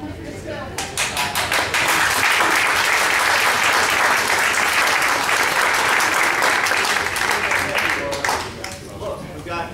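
Audience applause at a local political party event, a dense burst of clapping rising quickly and holding steady for several seconds before tapering off, with a few voices underneath.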